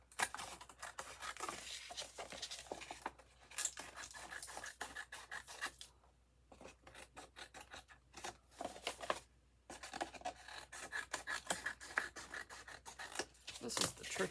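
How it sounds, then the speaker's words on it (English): Scissors snip and trim the felt edge of a craft gnome's oversized hat, giving repeated close, crisp cutting and rubbing strokes with short pauses between bursts. "Let me get my scissors. We're gonna try to trim it up."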